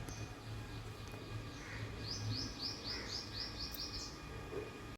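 Small birds feeding on a ripe guava in a tree chirp in a quick run of about ten bright, evenly spaced tweets, faint and distant over a low background hum, with a few scattered calls before and after.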